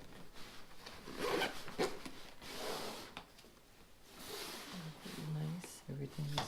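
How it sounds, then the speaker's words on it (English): A Knack backpack's expansion zipper is pulled open and shut in a few quick rasping strokes up close, with someone talking over it. "And then you would expand it with this zipper right here."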